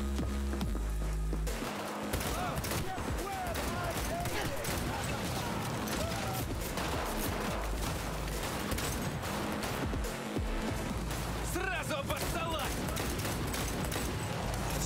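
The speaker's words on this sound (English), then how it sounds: "It's a slow shooting pistol." Gunfire from a pistol in the game Cyberpunk 2077 crackles amid busy combat noise, sharp repeated shots layered over a constant dense mix of game effects and sound, loud throughout with no pause.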